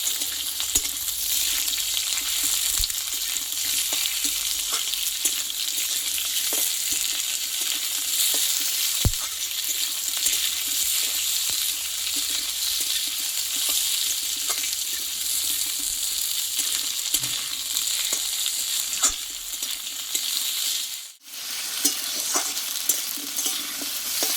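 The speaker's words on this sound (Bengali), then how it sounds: "এবারে আলুটাকে দিয়ে দেবো আলুটা দিয়ে কিছুক্ষণ নাড়াচাড়া করে নেবো" Potatoes fry in oil with cumin, green chilli and curry leaves, a loud steady sizzle running throughout with occasional clicks of stirring and one brief dip near the end.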